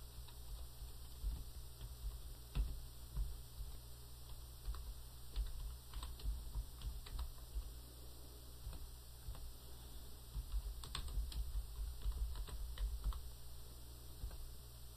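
Computer keyboard keys clatter in quick irregular bursts while an address is typed into Peachtree accounting software, soft and close over a steady electronic hum, with no talking.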